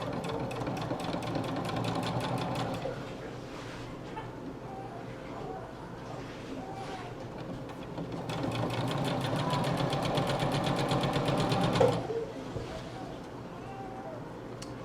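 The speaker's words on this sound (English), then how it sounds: "we're just doing straight stitching now" A sewing machine runs straight stitching along fabric for a DIY bridge hammock bug net, with a steady fast mechanical whir in two long runs and a quieter stretch between them, close by.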